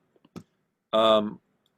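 A computer mouse clicks on a scale tool in graphics software: two or three soft, quick clicks close by, followed by a brief voiced hum or murmur.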